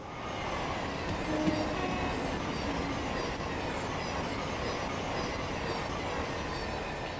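Thameslink Class 700/1 electric train in Train Sim World 6 on the Brighton Main Line, a steady rolling rumble with faint wheel squeal and rail clatter, continuous and moderately loud.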